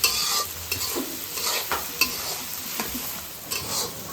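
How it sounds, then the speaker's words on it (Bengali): Noodles with egg, tomato and green chili stirred in a hot pan, the spatula scraping and clattering in uneven strokes over a steady close sizzle of frying. "ডিম, কাঁচামরিচ দিলাম। এখন লাড়াবাড়া করা হচ্ছে।"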